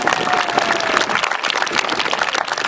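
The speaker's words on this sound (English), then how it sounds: "so if we can give them a round of applause" Outdoor crowd applause at the 46th annual Manzanar Pilgrimage in 2015, a dense, continuous patter of many hands clapping at steady loudness for the whole stretch, with no talking over it.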